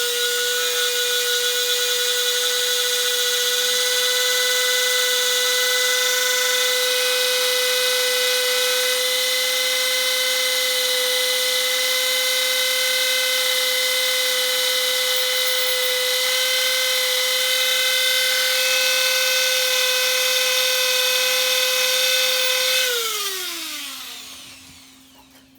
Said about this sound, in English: If you try to hold them and that thing takes off with this Dremel wire brush, good luck